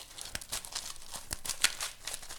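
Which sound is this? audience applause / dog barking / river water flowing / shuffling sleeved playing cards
shuffling sleeved playing cards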